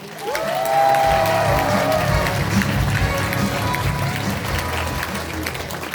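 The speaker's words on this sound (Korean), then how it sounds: "여러분들 뜨거운 박수와 함성으로 시작하겠습니다." An audience at a National Assembly member's constituency report meeting bursts into loud, sustained applause and cheering, with crowd shouts and voices mixed into the dense clapping.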